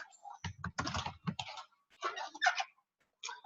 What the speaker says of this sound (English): I'm gonna type in 6 Scentsy bars